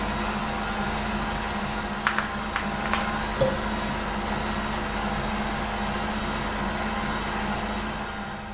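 A blender purées peach pieces with a constant, even motor whir. A few light knocks come early on, and then the drone settles and runs steadily to the end.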